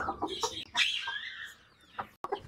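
A desi hen clucks in short, close, throaty bursts with a few higher squawking notes, broken by brief pauses, fairly quiet and without any voices.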